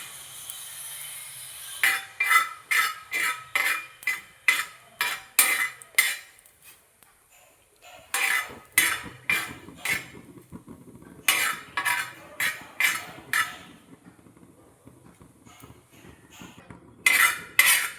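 Metal spoon scraping and clinking against a pan while ingredients for homemade hair dye are dry-roasted until black, rhythmic stirring strokes in repeated bursts with short pauses, close and clear with no talking.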